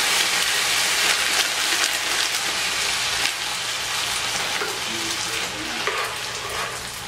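Corn kernels sizzling in a pan of melted honey butter, a steady close-up hiss and crackle like light rain that eases slightly toward the end.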